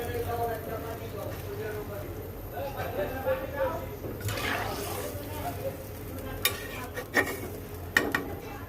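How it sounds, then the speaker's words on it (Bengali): Fish pieces are added to a pan of spiced liquid for a home-cooked Bengali dish, giving a soft bubbling sizzle with stirring and occasional utensil clinks, close by, while someone talks over it. "এখন আমি মাছটাকেও দিয়ে দেব। এই আমি মাছগুলি দিয়ে দিলাম।"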